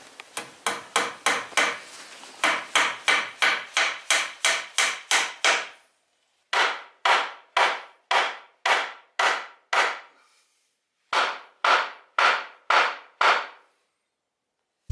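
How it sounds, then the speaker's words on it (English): Small tacks are hammered into the dowel end of a wooden gate: sharp, close, evenly spaced taps in several runs separated by brief pauses, with no talking. "I'm going to just use some little tacks just to make sure they don't come undone."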